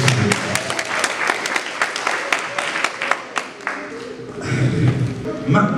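Wedding guests applaud in a steady burst of dense clapping close by, with voices chattering underneath and growing louder toward the end.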